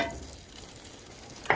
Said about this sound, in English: Oh, now it's starting to sizzle.